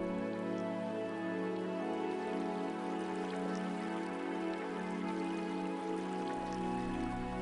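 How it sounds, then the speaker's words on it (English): Gentle running water from a garden fountain trickles steadily and softly, a continuous quiet flow with a faint tonal hum beneath it. "you hear the gentle sound of running water"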